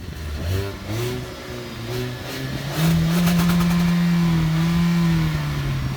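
A 2019 Hyundai i20 with a 1.4-litre, 100 PS engine runs a 0-100 acceleration, its loud close engine rising in pitch through revs, dropping at a gear change, then climbing steadily again.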